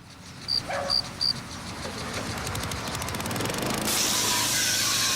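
Armor All Quicksilver wheel cleaner is sprayed and rinsed off car wheels: a steady hissing spray builds and grows louder toward the end, preceded by three short high beeps.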